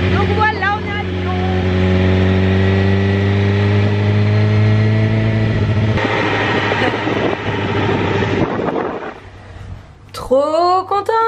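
Motorcycle engine heard while riding in Lyon, loud and close, with a steady droning hum that shifts pitch as the bike changes speed, and a brief rise near the end.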